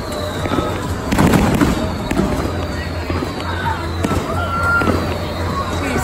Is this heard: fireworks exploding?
yes